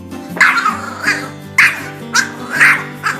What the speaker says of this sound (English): Despite its small size, it has a loud bark